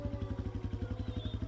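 A motorcycle engine in an animated horror story gives a steady, low, rhythmic thrum with quick regular pulses, close and fairly loud, holding an even pace throughout with no talking.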